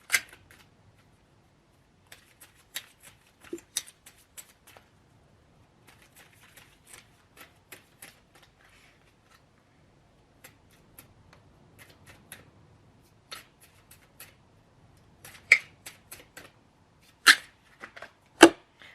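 Tarot cards shuffled and drawn, heard as scattered crisp taps and flicks spread irregularly across the span, close but sparse, with quiet stretches between clusters and no talk.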